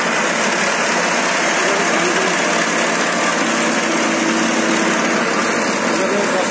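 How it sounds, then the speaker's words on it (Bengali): A modern combine harvester runs steadily in a rice paddy, cutting and threshing grain, its engine drone and rattling machinery forming a continuous, fairly loud wash of noise with no pauses. "অত্যাধুনিক যন্ত্র হারভেস্ট মেশিন।"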